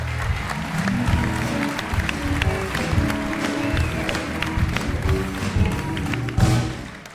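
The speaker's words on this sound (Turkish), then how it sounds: "Gel bir alkışlar alalım" A Turkish television talk show studio audience applauds steadily, a dense, moderately loud patter of clapping with occasional thumps, lasting the whole stretch.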